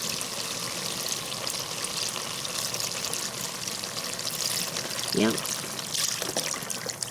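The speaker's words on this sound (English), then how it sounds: "I'm going to try to pour the whole thing in here" Chicken broth poured from a 32-ounce carton into a pot, a continuous splashing trickle with a brief gurgle near the end, and a voice speaks briefly over it.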